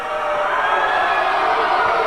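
A large crowd at a live wrestling event cheers and roars steadily and loudly throughout, a dense wall of voices with no pauses.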